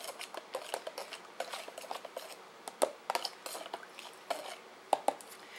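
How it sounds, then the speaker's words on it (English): A spoon stirs shrimp ceviche in a bowl, making a string of close, irregular clinks and scrapes against the dish with soft wet mixing between them. "let me stir this up"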